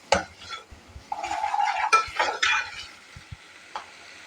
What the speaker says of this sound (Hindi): और इसे अच्छे तरीके से आप मिक्स कर लें।